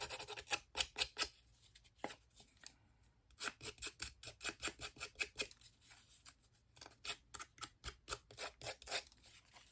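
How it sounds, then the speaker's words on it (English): Scissors snip and rasp rapidly along the edges of a craft material to rough them up, in quick rhythmic bursts with brief pauses, close and fairly quiet. "I'm going to use my scissors to really rough up the edges."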